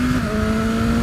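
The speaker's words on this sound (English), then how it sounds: "Look at those downshifts, man." A 2020 BMW S1000RR M motorcycle engine drones loud and close with a steady tonal whine, a brief stretch that gives little sign of distinct downshift blips.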